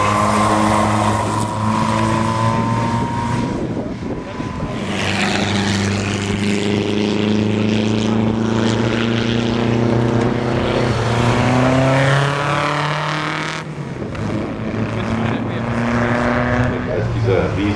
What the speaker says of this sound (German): Als dieser riesenvolumige Zweizylinder-Motor.